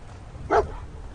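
A single short bark from a dog in a video game, one clipped yelp midway over a low background hum, no speech.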